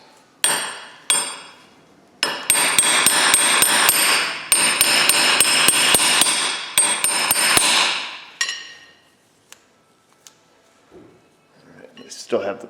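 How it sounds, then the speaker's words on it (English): Hammer blows strike a Subaru rear wheel bearing, a few separate knocks followed by a dense run of rapid metallic hits for several seconds, then stopping, with faint clinks after. "Should just go get a hammer, right?"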